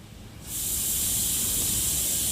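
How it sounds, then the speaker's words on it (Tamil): Onions and curry leaves hit hot oil for a Chettinad mutton gravy, bursting into a loud, steady sizzle that starts abruptly and keeps hissing without pause. "இப்போ இந்த வெங்காயத்தை நல்லா வதக்கி விடுங்க."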